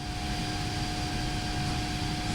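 Jet engines of a PMDG 777-200LR airliner in the Prepar3D flight simulator, a constant, toned-down roar with a steady high whine, unbroken throughout and heard alone.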